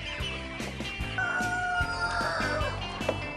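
Hens cluck and a rooster crows on a small free-range egg farm raising fertile eggs, the calls close and overlapping in a steady busy chorus with no talk.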